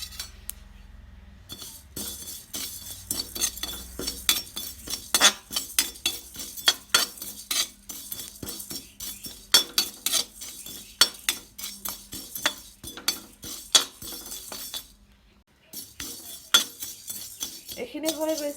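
Seeds and fenugreek dry roasting in a wok on a gas stove for a star fruit pickle, heard as steady scraping and clinking of a utensil stirring against the pan, repeated close strokes with a faint background hiss.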